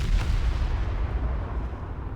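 Naval artillery fire from an Italian battleship in War Thunder Mobile rumbles as a deep, continuous booming roll of shells firing and hitting, loud and low without clear breaks.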